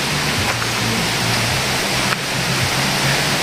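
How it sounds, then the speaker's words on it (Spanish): Small waterfalls and a river rushing steadily inside a nature park near El Dique, Chalatenango, a dense, continuous roar of water heard close with no talk. "Y miren las cascaditas, cómo se ven."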